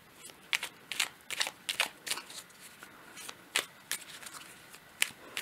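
Petit oracle tarot cards being handled and shuffled up close, a string of quick papery flicks and slaps in irregular bursts over a quiet background.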